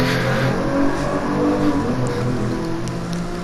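An Aston Martin DB11 accelerates at full power on a racing circuit, its engine roaring loud and close without a break, the pitch climbing steadily as it pulls hard.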